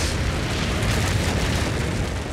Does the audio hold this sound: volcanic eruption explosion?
yes